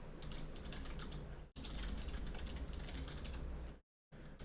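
Rapid, continuous typing on a computer keyboard, close and steady for several seconds, with a brief silent break near the end before the keys resume.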